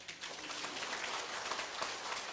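An audience at a political assembly meeting claps hands, a faint, distant, continuous patter of applause with no voices over it.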